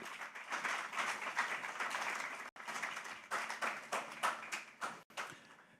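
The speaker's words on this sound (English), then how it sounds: "Once again, a round of applause to our GCEO" A seated audience at a corporate mobile app launch event applauds, a dense and steady wash of many hands clapping that breaks off briefly twice and then resumes, fading into scattered claps.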